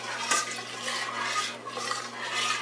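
A spoon stirs a seafood gumbo roux in a pot over high heat, giving a steady close-up scraping and swishing with a brief clink near the start.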